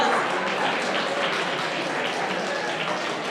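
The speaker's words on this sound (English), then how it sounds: "More applause, more applause." Audience at a mental health awareness fundraiser applauding an award presentation, dense continuous clapping that holds steady and fairly loud from start to finish.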